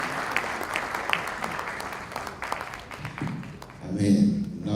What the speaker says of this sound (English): please give a round of applause to Mrs. Naija for that very insightful presentation